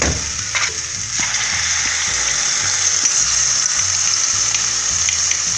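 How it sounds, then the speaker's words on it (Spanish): Ají panca paste frying over high heat in a pan for a corn sauté, a loud continuous sizzle with repeated scraping and clicking strokes from a spoon stirring it. "Igualmente vamos a freír, mover y esperar también que se fría."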